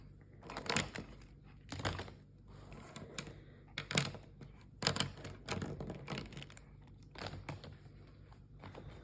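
Typing on a keyboard comes as irregular bursts of sharp clicks and taps over about nine seconds, close but quiet, with short pauses between clusters of keystrokes.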